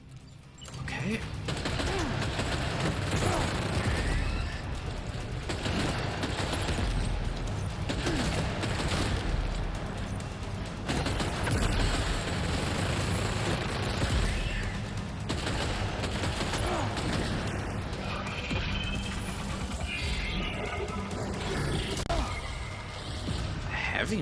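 Sustained heavy machine gun fire in the video game Death Stranding 2, with dense rapid bursts going on almost without pause, loud and close, broken by short gaps and occasional impacts, with a player talking over it.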